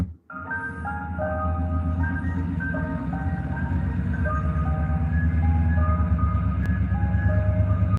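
An ice cream truck plays its tinkling, looping chime melody loudly and steadily over a low engine hum, with no talking.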